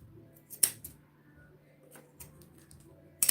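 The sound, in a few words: scissors cutting fabric while making a bag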